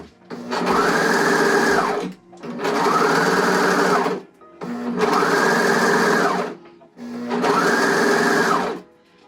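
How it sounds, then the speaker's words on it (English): A sewing machine stitching elastic onto swimsuit fabric runs in four steady bursts of about two seconds each, separated by short pauses, loud and close with no talking. "And then I just continue pulling it slightly and sew to the very edge."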